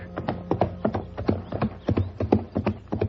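A ranch horse walking on hard ground near a small western town, its hooves clip-clopping in a steady, close, evenly spaced rhythm with no talk over it.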